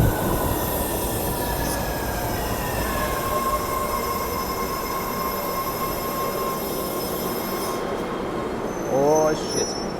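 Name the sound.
train arriving at station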